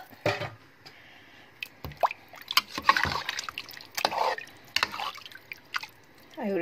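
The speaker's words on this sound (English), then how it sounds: "I will put water in it and I let it cook for 20 minutes" Water poured into a masala dish as it cooks, heard as scattered drips, plops and splashes of liquid close by, with clattering, uneven bursts over about six seconds.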